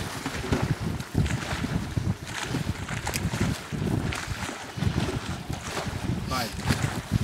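Strong wind buffets the microphone at a carp-fishing lake, a continuous rough rumbling roar with gusty surges, loud and close, mixed with faint water sounds.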